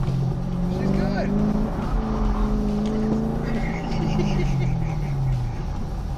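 Hot rod car engine droning and shifting pitch as it is driven, a steady rumbling motor under people talking nearby, with occasional rises and falls in revs.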